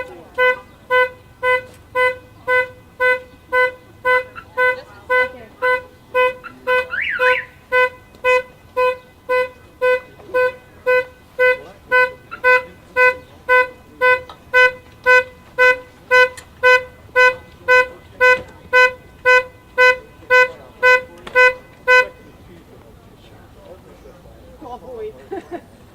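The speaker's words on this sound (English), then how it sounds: "Every time we touch that car, I mean, it's got the most sensitive alarm ever." A car alarm with an extremely sensitive trigger blares a rapid, steady chain of loud repeating tones for about twenty seconds, then cuts off abruptly, with faint background activity underneath.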